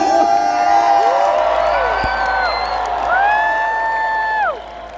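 A crowd at a medieval knight combat tournament, Canadian and American knights in the arena, roars and whoops loudly and continuously, with rising and falling shouts over the steady din.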